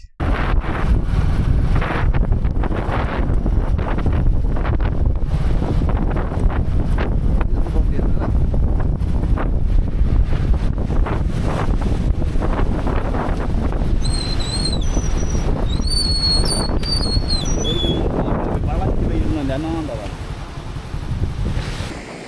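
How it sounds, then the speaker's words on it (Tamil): Heavy ocean surf at Kurumpanai beach, a loud continuous roar of breaking waves with strong wind buffeting the microphone; a voice speaks over the crashing water. "இந்த அலை எப்படி வருதுன்னு பாருங்கள் அலையை பார்க்க பயங்கரமாக இருக்குது"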